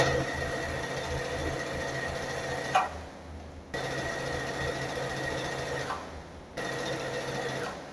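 A sewing machine stitching fabric straps for a pleated skirt, two steady runs of rapid close mechanical whirring, each stopping abruptly before starting again, with no talking.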